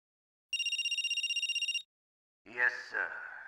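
Telephone ringing in the video game Metal Gear Solid, a short electronic trill of rapid pulses lasting over a second, followed after a pause by a voice speaking.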